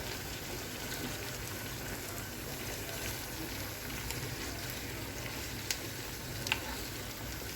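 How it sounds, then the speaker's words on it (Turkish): Beans boiling in a little water in a pot, a constant soft bubbling hiss with occasional tiny pops, steady and fairly quiet with no talk. "O yüzden şöyle birazcık suyla kaynatıp fasulyeleri pişireceğim."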